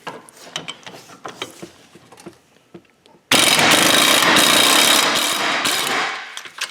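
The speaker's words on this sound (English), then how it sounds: "We're going to come with a swivel socket off to the side because I like using power tools." A few light clicks, then a power tool with a swivel socket suddenly whirs and rattles loudly, running steadily for a few seconds during a Cadillac ATS rear brake replacement.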